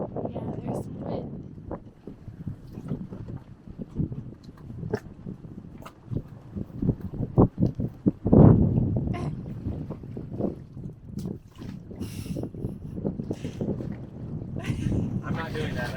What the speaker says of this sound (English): Yeah, there's some wind.